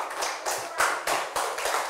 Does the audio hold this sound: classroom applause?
yes